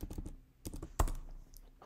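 Computer keyboard keys are pressed in a short irregular burst of clicks, several quick taps followed by one sharper, louder keystroke, close and otherwise quiet.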